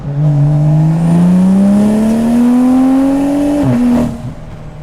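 A loud straight-piped BMW M340i exhaust roars as the engine pulls hard in third gear and climbs steadily in pitch, then drops sharply as the driver lets off.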